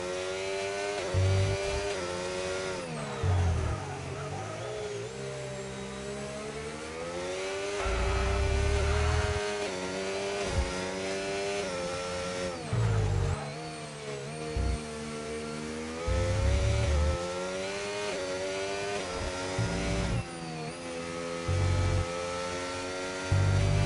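A McLaren race car engine heard from an onboard camera in a racing video game, loud and close, rising and falling through gear changes with downshifts and throttle blips, continuous without talk.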